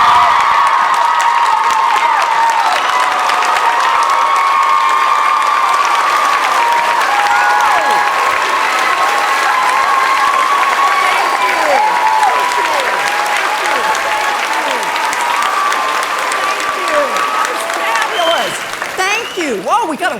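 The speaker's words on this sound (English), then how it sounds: "Whoa, we got a whistler in here." A college audience at Mount Holyoke College welcomes Elizabeth Warren with sustained loud applause, cheers and a piercing whistle rising above the crowd, then clapping thins at the end.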